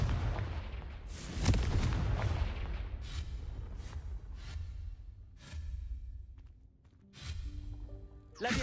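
Confringo blasting spells fired in Hogwarts Legacy, a series of loud booming explosions with sharp cracking onsets and rumbling tails, repeated several times in uneven succession.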